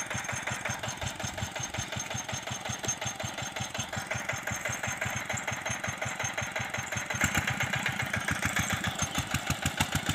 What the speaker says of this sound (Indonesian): proses pemasangan garu pada mesin traktor